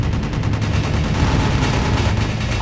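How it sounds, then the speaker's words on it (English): Aircraft nose guns firing in the combat flight game Aces High 2, a dense continuous burst of rapid gunfire lasting the whole moment, loud and close with a heavy low rumble. "I hit him with some of my nose guns."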